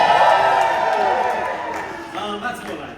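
A crowd at a Disney villains show on a cruise ship cheers and whoops loudly at first, the roar gradually thinning out over a few seconds.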